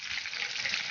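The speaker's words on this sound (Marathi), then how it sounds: "राई तडतडली की जिरं टाकायचं, जिरं आणि हिंग" Mustard seeds crackling in hot oil with cumin and asafoetida for a tempering of chana dal amti, a brief steady sizzle with fine popping texture, close and fairly quiet.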